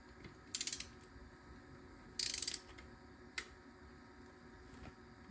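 Ratchet torque wrench clicking as it tightens bolts on a KTM RC8R 1190 motorcycle during an oil change, with two short bursts of rapid ratcheting clicks and a single sharp click afterward, fairly close in a quiet room.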